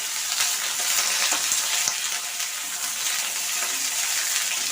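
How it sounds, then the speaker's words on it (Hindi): Eggplant (brinjal) pieces fry in a pan for a Bihari home-style meal, giving a steady, loud, continuous sizzle with crackling bursts throughout and no voices. "सबसे पहले बैगन को डाल के भूज लीजिए"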